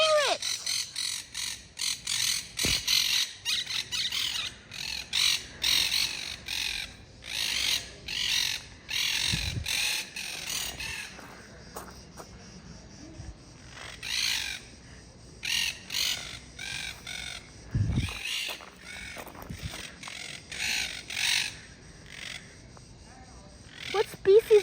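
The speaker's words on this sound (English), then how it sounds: "Guys, look, a parrot." Parrots in Italy squawk repeatedly in loud harsh bursts, close by, with short pauses between calls and a few sharp louder cries.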